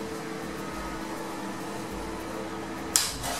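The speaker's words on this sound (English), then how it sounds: "So here's my microwave. You can see it's on." A steady low hum and whir of a microwave oven running on a 3.5 kVA power supply, constant throughout, with a brief click or clatter near the end.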